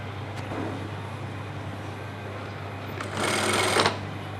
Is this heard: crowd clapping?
no